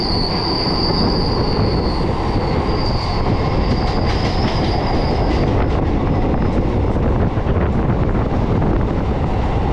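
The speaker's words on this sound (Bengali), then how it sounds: "এই বেলুড় মঠ লোকাল কিন্তু একটাই ট্রেন যেটা কিন্তু লিলুয়া স্টেশনকে বাইপাস করে একদম ডান দিক দিয়ে বেরিয়ে যাচ্ছে" A Belur Math local train runs past Liluya station, its wheels squealing and rumbling loudly and continuously with a rushing roar of wind, very close and steady throughout.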